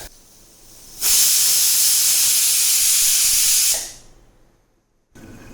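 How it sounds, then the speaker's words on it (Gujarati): A pressure cooker cooking a Gujarati cluster bean and ridge gourd curry lets out one loud, sustained hiss of steam from its whistle. The hiss lasts about three seconds, then fades into near silence. "વિસલ વગાડવાની છે"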